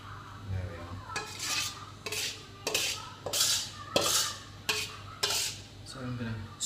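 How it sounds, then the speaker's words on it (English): A metal utensil scrapes food out of a wok in a home kitchen while making chicken casserole, giving a series of repeated harsh scraping strokes with brief pauses, close and fairly loud, with no talking. "So I'm going to scrape it all out."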